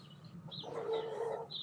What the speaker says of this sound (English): If you guys hear chirping in the background, that is because Mom has her windows open and she has some obnoxious birds